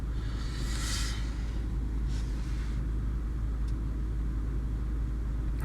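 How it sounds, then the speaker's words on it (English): A steady mechanical hum of a vehicle air suspension compressor running continuously, with a brief hiss of air partway through and no talking. "I can hear my compressor running."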